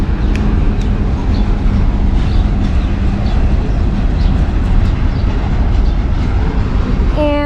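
A Monongahela GP38-3 locomotive, a rare unit with double axles, rolls past with a steady, loud rumble and rail clatter that fills the whole span, close by and continuous, ending with a faint rising tone.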